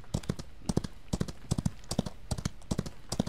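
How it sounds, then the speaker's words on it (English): A horse galloping in the Western game Outlaws of the Old West, steady paired hoofbeats thudding in a quick, even rhythm, close and fairly quiet, heard alone without talk. "I can even gallop here."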